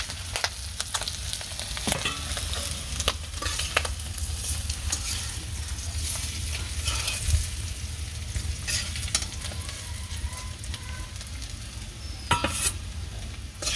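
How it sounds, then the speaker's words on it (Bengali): Egg and potato fry in a pan with a steady, loud crackling sizzle that runs throughout, broken by sharp clinks and scrapes of a utensil stirring against the pan, close up and with no talking. "ডিম আলু দিয়ে সব ভাজা এসে নামিয়ে নিলাম"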